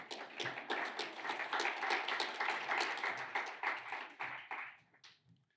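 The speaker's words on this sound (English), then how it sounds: "Yeah, we can clap for Danny" A modest audience claps for a panel moderator at a conference day, fairly quiet and somewhat distant, with scattered sharp hand claps swelling briefly and then tapering away.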